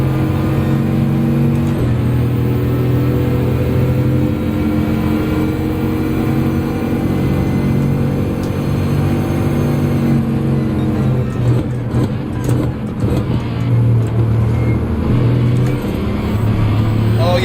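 A 16-cylinder, four-turbo race car in Gran Turismo 7, its engine droning loud and steady with a rising, rough revving surge late on. No voices are heard.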